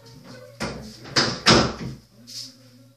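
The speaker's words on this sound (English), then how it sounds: "I'm going to go ahead and close the door." A household door swings and shuts indoors with a few muffled knocks and a firmer closing thump, close by, with faint television sound in the background.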